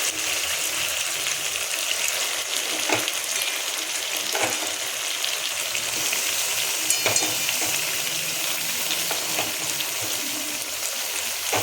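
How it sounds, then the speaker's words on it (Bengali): Chicken frying in a spiced masala in a pan, giving a continuous dense sizzle with occasional sharp spatula scrapes and taps while it is stirred, close up and with no voices. "এবারে আবার কষাবো চিকেনটাকে পুরো।"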